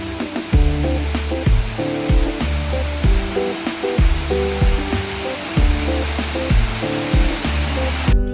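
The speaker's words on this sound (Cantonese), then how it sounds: "最後呢個瀑布啦" A waterfall in Pak Mong stream gives a constant broadband rushing roar, partly masked by loud, rhythmic background music with repeating low notes. No one talks.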